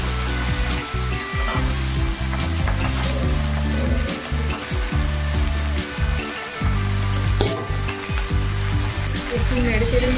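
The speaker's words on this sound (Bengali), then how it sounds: "এর মধ্যে কেটে রাখা বেগুন আর আলু এর মধ্যে দিয়ে দেব।" Cut eggplant and potatoes drop into hot oil with fried garlic and dried red chillies, producing a continuous sizzle with occasional stirring clatter over a low, steady tonal background.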